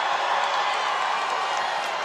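Rambunctious crowd cheering and applauding at a Trump rally in Tucson, Arizona, a steady dense roar of claps and shouts that fills the whole stretch at full level.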